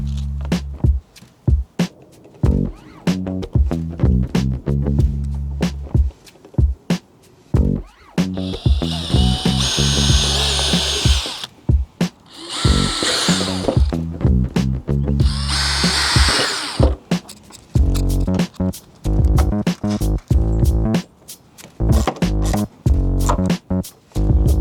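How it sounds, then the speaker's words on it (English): A power drill bores bolt holes while a drop-down table is fitted to an FJ Cruiser, with repeated short whirring bursts and several longer high-pitched runs, loud and close, with no speech. "just mark it, drill your holes, and then put your bolts in"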